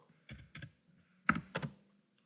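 Keystrokes on a computer keyboard as commands are typed, in two short bursts of a few clicks each with a pause between, near and clear with no talking.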